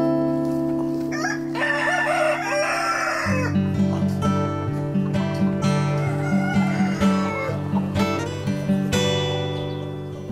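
Heritage backyard hens, a Faverolles and a silver grey Dorking, cluck in a steady run of soft rhythmic calls close by, with a rooster crowing near the start over a constant farm hum.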